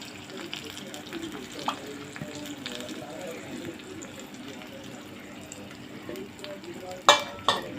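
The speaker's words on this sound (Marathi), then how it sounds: "हे सुद्धा चांगलं तेल सुटूपर्यंत भाजायचं आहे, हे मसाले सगळे" Yogurt and spice mix for an egg gravy frying in oil over low gas, a steady soft sizzle with occasional stirring scrapes and a few sharper clinks near the end; a voice speaks faintly underneath.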